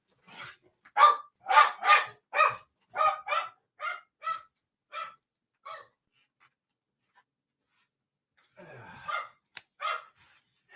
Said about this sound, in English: That dog's losing her mind.